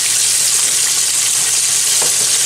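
Grey snapper steaks dusted in flour and cornstarch fry in hot oil, giving a steady, loud, dense sizzle that carries on without a break, with a few faint pops and no voices.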